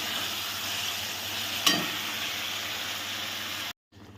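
Fried eggplant is stirred into a spiced fish curry in a pan, giving a steady sizzle with a scrape of the spoon partway through before the sound cuts off; no one speaks.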